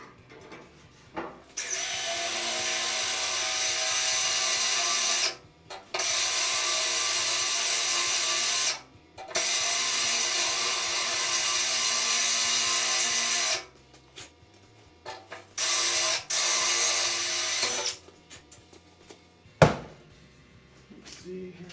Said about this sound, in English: Got to re-drill this one hole here through the new brace